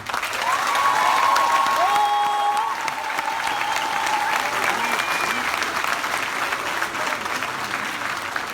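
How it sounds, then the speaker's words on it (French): Rally audience claps steadily and densely for several seconds, a broad wash of applause from a crowd, with faint voices and whistle-like tones mixed in near the start. "Applaudissez-vous."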